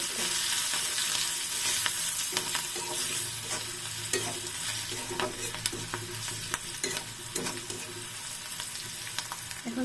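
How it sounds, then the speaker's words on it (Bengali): Onions fry in a pan with salt and turmeric powder, a close steady sizzle broken by frequent spatula scrapes and clicks as they are stirred. "এখন হলুদের গুঁড়া দেব এখন ভেজে নেব"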